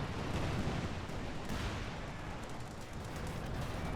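A white phosphorus artillery strike in Company of Heroes 2 comes down as a dense, continuous roar of rumbling blasts and crackle that holds steady at a moderate level for several seconds.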